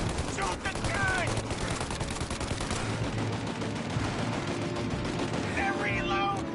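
Heavy continuous turret gunfire in Mafia Definitive Edition rattles on in a dense stream during a police chase, with occasional shouted voices breaking in over the shooting.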